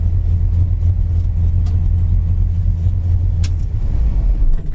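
A 1971 Plymouth Duster engine runs steadily at idle, a loud, close, continuous low rumble with no voices over it.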